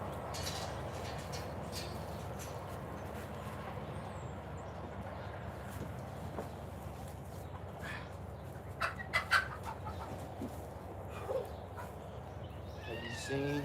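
Chickens cluck softly on a ranch amid steady outdoor background noise, with a few brief louder squawks near the end and no talk in between.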